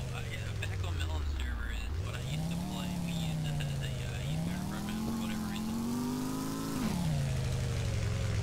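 A car engine in a video game revs steadily, its exhaust droning and rising in pitch across a couple of long pulls, loud and continuous beneath someone talking.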